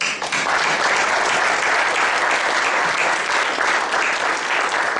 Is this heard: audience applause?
yes